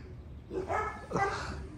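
Two quick, close dog barks, a short pause between them, with soft background noise.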